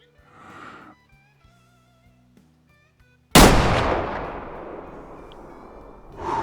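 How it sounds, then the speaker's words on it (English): A single loud hunting rifle shot in the game Way of the Hunter cracks out after a quiet stretch of soft ambient tones, followed by a long rumbling decay. "Now we'll take the real shot."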